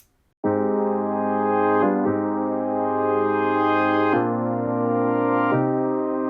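Rich layered synthesizer chords sustain steadily, shifting to new chords several times with no gaps; warm, full, and unaccompanied by voices.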